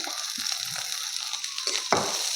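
Bitter gourd peels roast in a hot pan with a steady sizzle, and a few brief louder crackles and stirring scrapes rise above it.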